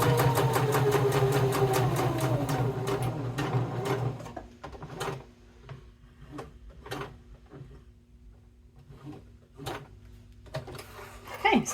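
A sewing machine stitches along the bottom edge of a bifold wallet in a short busy run, then stops, followed by sparse sharp clicks and ticks of handling, close and moderately quiet.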